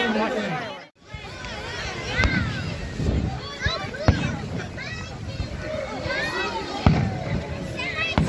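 Fireworks pop and crackle at an outdoor Christmas tree lighting ceremony, with sharp bursts spaced across the stretch over a steady crowd murmur, with children and adults chattering nearby.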